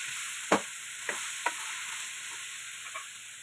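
Kusa is stirred in a sizzling pan, a steady hiss of frying broken by a few sharp scraping taps of the utensil.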